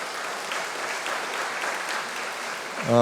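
Steady applause from a forum audience after a keynote lecture, sustained and fairly even throughout, swelling slightly at the very end as a voice begins.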